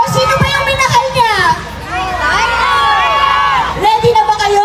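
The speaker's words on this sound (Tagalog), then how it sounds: "Sigawan ang mga tao bago bumaba si Janine sa stage" A festival crowd at the Maskarra Festival stage in Bacolod City shouts and cheers, loud, high-pitched screams rising and swelling together, sustained from start to finish.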